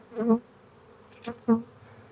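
Close honey bees from a swarm buzz in three short bursts, each a quick droning hum that rises and fades within a fraction of a second.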